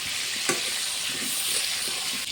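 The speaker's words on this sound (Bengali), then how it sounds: "এই যে আলুগুলো এইভাবে প্রথমে ভাজা হবে" Potatoes frying in a pan and stirred with a spatula, a steady close sizzle with soft scraping strokes, no voices.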